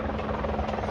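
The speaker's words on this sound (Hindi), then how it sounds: "तो देखिए वो सामने हेलीकॉप्टर आया, उतर रहा है।" A helicopter landing at the Kedarnath helipad in the Himalayan mountains gives a steady, loud rotor drone with continuous low thumping, close by and filling the whole second with no talk over it.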